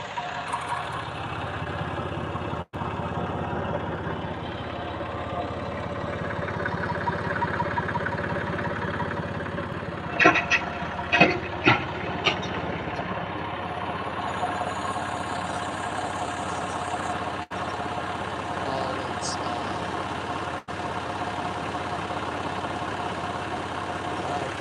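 A wood chipper engine idles steadily with a low, even rumble; a few brief clanks and rattles break in midway, and a voice speaks faintly underneath.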